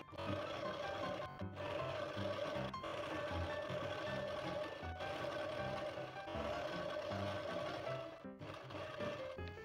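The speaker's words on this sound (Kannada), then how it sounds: "ಅರ್ಧ ಇಂಚಿಗೆ 2 ಫೋಲ್ಡ್ ಮಾಡಿ ಈ ತುದಿಯಲ್ಲಿ ಹೊಲಿಬೇಕು." A sewing machine stitches a folded skirt hem in rapid, steady bursts with brief pauses between runs, close and moderately loud with no talking.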